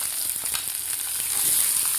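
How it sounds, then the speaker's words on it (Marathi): Chopped onion, curry leaves and garlic sauté in hot oil for peanut chutney, with a loud, close, continuous hiss and sizzle and faint stirring, and no voices. "कांदासुद्धा आपल्याला 2 मिनिटासाठी व्यवस्थित परतून घ्यायचा आहे"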